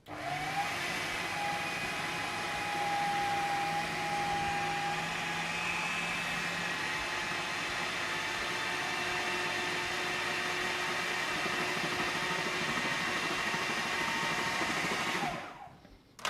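Electric mixer whirring through zucchini bread batter, a steady loud motor drone holding unbroken for about fifteen seconds before cutting off abruptly at the end.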